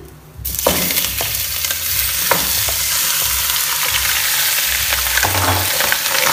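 Mutton pieces frying in oil in a pan, a loud steady sizzle that jumps up suddenly and holds with crackles and occasional stirring clinks, no voices.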